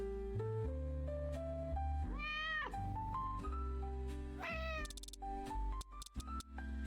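A cat meows over continuous game music, its rising and falling wails standing out near the middle and end of the stretch; no one speaks.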